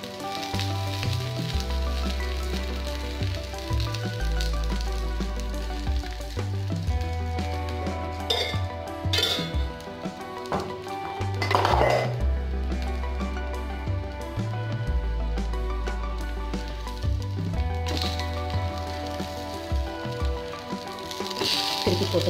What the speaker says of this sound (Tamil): இப்போ சுற்றிலும் நல்லா எண்ணெய் ஊற்றி ரெண்டு பக்கம் நல்லா வேக வச்சு எடுத்துக்க போகிறோம்